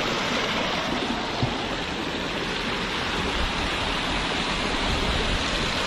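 Water pours down a waterfall in Cherrapunji, Meghalaya, a steady broadband roar that stays close and unbroken throughout, with no voices.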